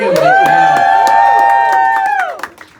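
A game-show audience cheers, whoops and claps for the lightning round, a loud, dense wall of crowd noise with rising shouts that holds steady, then fades out quickly near the end.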